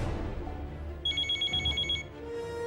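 An electronic telephone bell trills in a quick burst of repeated pulses for about a second, loud over a low background rumble.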